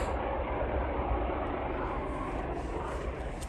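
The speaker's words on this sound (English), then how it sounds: "that lead locomotive had a really interesting K5HL horn you can see here" CN freight locomotives 3823, 2849 and 2698 lead an intermodal train past the listener. A dense, steady, loud rumble and roar carries on throughout, and no horn blast stands out.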